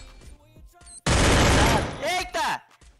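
MP5 submachine gun fire in a competitive online shooter: a loud, dense burst of rapid shots lasting about a second, followed by a shorter second burst, with players talking excitedly before and around it.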